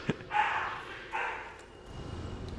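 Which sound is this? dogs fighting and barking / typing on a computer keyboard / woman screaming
dogs fighting and barking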